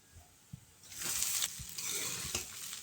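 Leftover cooked rice mixture frying in a hot pan, a couple of soft taps, then a bright sizzle swells and keeps hissing while a spoon stirs through it in scraping strokes, close up.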